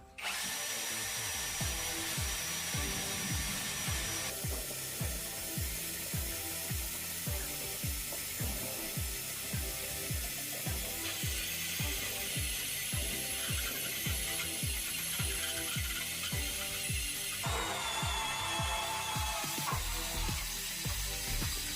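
A Tansu cordless drill bores into concrete with a 13 mm bit, a loud continuous whine with a rapid rhythmic hammering pulse that holds steady throughout, close and without voices.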